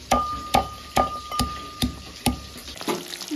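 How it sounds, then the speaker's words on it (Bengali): Green chillies are pounded in a home kitchen, about seven evenly spaced heavy thuds at a steady rhythm, close and distinct, over a faint steady hum with a frying hiss in the background. "একটু লঙ্কা থেতো করে নিচ্ছি।"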